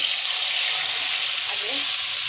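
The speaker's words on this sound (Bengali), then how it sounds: "আমি পুঁটি মাছগুলো ফ্রাই করে নই" Small puti fish fry in hot oil with a dense, steady sizzle, loud and close throughout.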